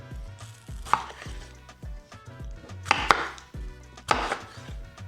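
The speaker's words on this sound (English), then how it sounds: "just cut them in half." A knife halving tomatoes and onions on a cutting board, making several separate firm chops at a slow uneven pace, close and clear with no talking.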